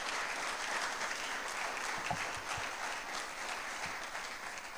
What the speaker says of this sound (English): Please let us give him another round of applause.